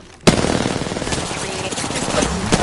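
Sustained automatic gunfire in a video game erupts suddenly after a quiet instant, then rattles on loudly and continuously, with a few sharper shots standing out near the end.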